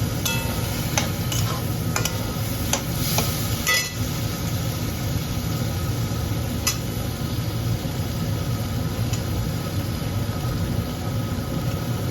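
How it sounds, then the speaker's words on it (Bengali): Prawns are sautéed in a pan for a fish curry, with a continuous low sizzle and a few sharp clinks and scrapes of a stirring spoon early on, then a steady even hiss. "চিংড়ি মাছটা দিয়ে আবারও ভালো করে কষিয়ে নেব"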